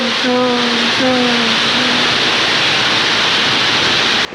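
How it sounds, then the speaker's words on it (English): A massive cave waterfall in a video game roars as a dense, loud, continuous rush of falling water, with a brief tonal voice-like hum in the first two seconds before the roar carries on alone. "I barely escaped the draw of the massive waterfall."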